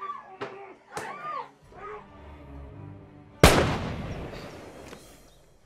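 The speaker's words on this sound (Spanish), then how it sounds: "Esos malditos balacearon" A sharp, loud gunshot bursts out and rings away, following a few short voice-like cries and a low hum.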